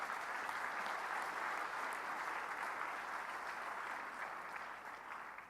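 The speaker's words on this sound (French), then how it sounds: "Je voudrais vraiment qu'on applaudisse tous ceux de la Croix-Rouge et du Croissant-Rouge." Audience applause honoring the Red Cross and Red Crescent at an official speech by the Vice-President in Côte d'Ivoire, a steady, dense clapping that holds throughout and eases slightly near the end.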